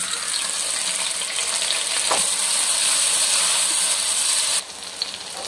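Steady, loud sizzling of tomatoes and onions frying in hot ghee, a continuous crackling hiss that dips slightly near the end.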